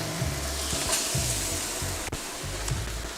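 Steak searing in a hot wok, giving a loud, steady close sizzle with faint stirring clatter and no talking.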